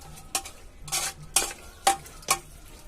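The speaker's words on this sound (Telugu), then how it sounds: "స్లోగా ఈ విధంగా మొత్తం కలిసేలాగా కలుపుకోవాలండి" Pieces of country chicken curry are stirred in a pot in village-style cooking, about five distinct scraping strokes with a soft sizzle beneath, close and without talking.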